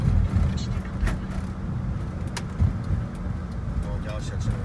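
A camper van drives along a road with a steady low engine rumble and road noise, slowing at a red light, while people talk inside.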